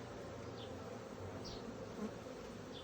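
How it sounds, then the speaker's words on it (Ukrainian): Honey bees buzzing on a hive frame, a steady dense drone from a crowd of bees close by, with occasional individual bees passing nearer, fairly quiet and free of speech. "Ось у нас така гарна рамочка з бджолками"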